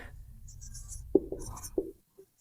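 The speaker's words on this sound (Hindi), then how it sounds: "तो सबसे पहले हम लिख लेते हैं" Pen writing out a maths solution, soft scratching strokes with a few sharper taps near the middle, quiet and close with no talk.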